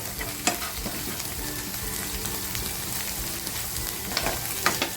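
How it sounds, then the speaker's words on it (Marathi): Masala frying in a pan for a spicy barfish recipe, a loud, dense, continuous sizzle and crackle with a few sharp spoon knocks and scrapes as it is stirred, close and without speech. "मसाला आहे ना आपल्याला खमंग परतवून घ्यायचा आहे अगोदर"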